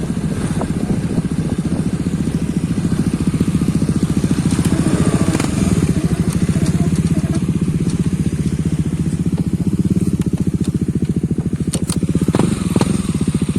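A modified motorcycle engine runs close by with a loud, rapid throbbing beat, revved gently and held fairly steady, with occasional mechanical clatter on top.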